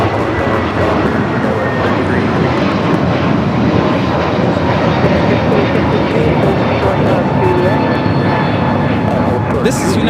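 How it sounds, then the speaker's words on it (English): A United Airlines Airbus A321neo takes off at Los Angeles International Airport, its engines producing a loud, continuous broadband roar that stays strong and steady throughout, while people talk over it. "This is United Airlines 2113 taking off to Chicago on the A321 Neo."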